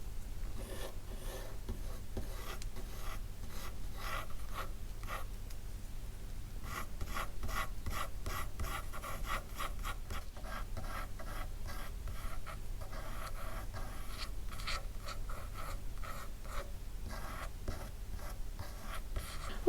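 A graphite pencil strokes across paper as hair strands are drawn, making a steady, close, rapid scratching that stays continuous and alone throughout.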